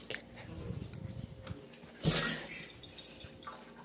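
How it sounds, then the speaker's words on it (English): Water poured down a sink, a brief splashing gush in the middle after some faint dripping and small kitchen clatter, fairly quiet overall. "I'm pouring this water down the sink."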